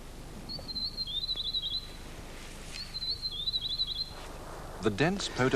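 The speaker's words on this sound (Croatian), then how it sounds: "Guste zimzelene šume stanište su raznim pticama koje se mogu naći samo na Novom Zelandu" Two clear, high warbling songs of New Zealand evergreen forest birds repeat a few seconds apart, followed by a burst of quicker chirps near the end.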